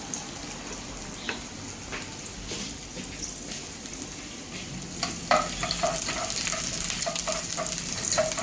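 Chopped garlic frying in oil in a pan gives a steady close sizzle with light crackle and scattered pops, growing louder and busier in the last few seconds.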